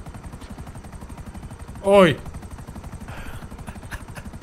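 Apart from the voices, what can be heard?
helicopter flying in the video game GTA V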